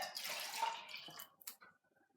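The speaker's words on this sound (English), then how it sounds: "I could actually pour some of my water into my can, which will wash my can out at the same stage." Water poured into an emptied tin can to rinse it out while making spicy tomato soup, a short splashing, sloshing pour that tapers off into a few faint drips.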